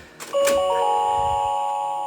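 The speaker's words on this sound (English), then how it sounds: "Love that noise. The Star Tours chime is awesome." The Star Tours chime from a Disney Starspeeder 1000 toy vehicle playset, a bright electronic ding-dong with a sustained tone that rings out and fades slowly, loud and close with no talking.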